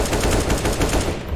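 Rapid automatic gunfire from the video game CS:GO, a loud burst of close shots in quick succession with no talking over it.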